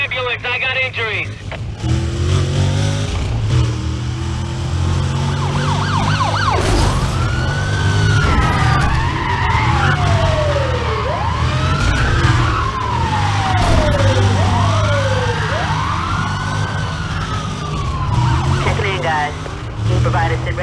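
An ambulance siren in the game Need for Speed Undercover wails loudly, sweeping up and down repeatedly over a rumbling engine, with brief chatter near the start.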